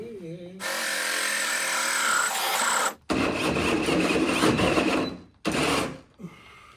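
A power drill whirs loudly for several seconds, stops briefly, then runs again in short bursts as it burns out, with a voice faintly audible at the start.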